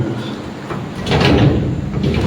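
A drawer is pulled open inside a house, giving a fairly loud scraping slide that swells midway and carries on to the end, with no talking.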